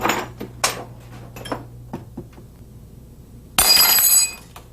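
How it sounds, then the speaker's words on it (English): Broken glass fragments swept up, a series of light clinks and tinkling scrapes as shards shift, followed by a louder burst of jangling glass near the end, close and alone. "Glass fragments can be swept up."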